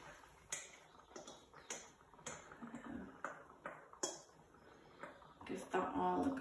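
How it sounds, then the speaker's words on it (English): Corn and beans going into a pot of courgette and sweetcorn chowder, heard as a quiet run of metallic clinks and taps from a spoon against the pot, spaced irregularly with a soft splashy patch near the end. "Time to add your corn and mixed beans, or not mixed beans as the case may be."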